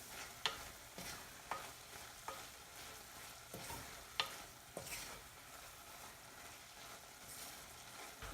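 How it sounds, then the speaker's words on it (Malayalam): Clam meat stir fry being mixed in a pan after black pepper powder goes in, quiet sizzling broken by a series of sharp spoon scrapes and taps at irregular intervals. "എല്ലാം നന്നായിട്ടൊന്ന് മിക്സ് ചെയ്ത് കൊടുക്കാം."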